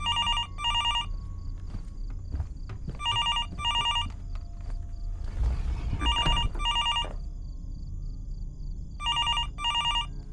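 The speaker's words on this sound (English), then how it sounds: "At 3:18 a.m., Holly awakens to the sound of the phone." An old telephone rings in a horror video game, four paired bursts of bright bell trills spaced evenly apart, moderately loud against a quiet, low ambient background with a brief rustle midway.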